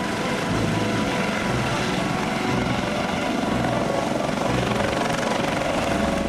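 A helicopter hovers close by, its rotor and engine producing a loud, constant thrumming roar without a break.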